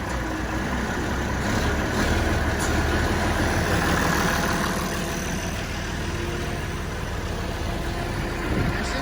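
Farm vehicle engine idling steadily after a key start, a loud, continuous low rumble that holds evenly throughout with no voices.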